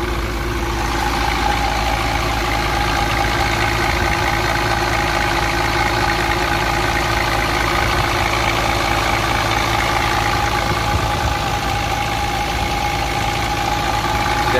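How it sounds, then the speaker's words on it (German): Diesel engine of a city bus, fleet number 1024, idling steadily and loudly up close, with a continuous low rumble and an even mechanical clatter throughout and no interruptions. "Hier der Kollege hat schon den Motor angelassen. Wir können uns den ja mal Motor mal anhören."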